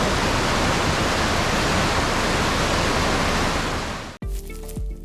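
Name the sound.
scenic streams flowing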